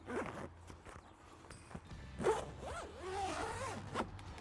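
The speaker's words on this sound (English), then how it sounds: "Zips right up, now you're enclosed." A zipper on a 2021 Can-Am Commander MAX XT window cover is pulled in several drawn-out strokes, close by, its rising and falling rasp mixed with soft rustling and handling noises.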